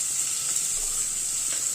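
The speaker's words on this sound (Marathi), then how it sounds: "आणि हे सगळं छान परतून घ्यायचंय आपल्याला" Onion, carrot, garlic, ginger and chilli being sautéed in a pan for diet khichdi give a steady, close sizzle that runs unbroken the whole time, with faint stirring noises and no voices.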